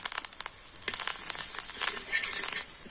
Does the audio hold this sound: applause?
no